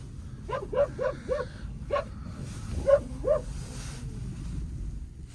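Several dogs bark in short bursts, a quick cluster followed by a few more scattered barks, moderately distant over a steady wind rumble.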